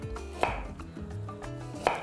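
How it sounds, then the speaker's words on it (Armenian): A knife halves a carrot for broth, landing two sharp chopping strikes on a board about a second and a half apart, close and clear with no voices. "մանր չենք կտրատում, այսպես 2 մաս ենք կիսում"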